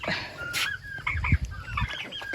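Chicken clucking on a farm, a few short close clucks scattered over a steady rural background with low rumbling noise.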